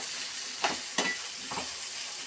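Onions fry in hot oil with a steady, close sizzle, and a spoon scrapes through them in three distinct stirring strokes; no one talks.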